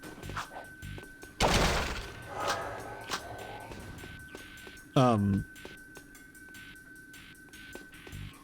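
Shotgun blasts from the Jak II video game, a few sharp bursts mixed with game effects and music while someone talks over them.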